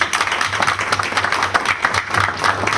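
A room of people at a city council meeting applauds continuously for a few seconds, dense steady clapping heard close, with no talk over it.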